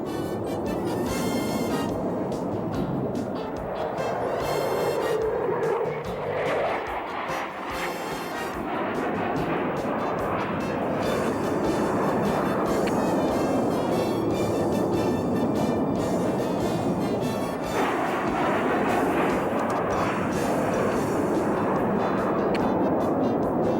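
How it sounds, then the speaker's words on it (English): F-15 Eagle fighter jets scrambling and climbing out on an alert launch, a loud, sustained jet engine roar that rises and swells steadily throughout without a break, with no talk over it. "Within minutes, Eagles are climbing faster than any aircraft in the world to meet the aggressor."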